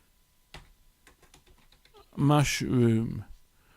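Quick keystrokes tap on a computer keyboard in a short light burst, followed by a voice speaking nearby.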